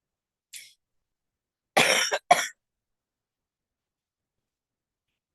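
A short, quiet exhale, then a pair of harsh coughs close by, followed by silence.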